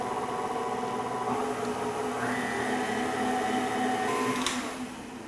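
Electric mixer on low to medium speed beating brownie batter with eggs and vanilla extract, a steady close motor whir with a humming tone that shifts pitch partway, then eases off at the end.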